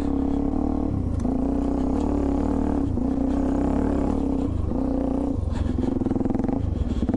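Suzuki DR-Z400E dual sport motorcycle being ridden, its steady engine drone holding close and loud throughout with slight shifts in pitch between gears and no talk over it.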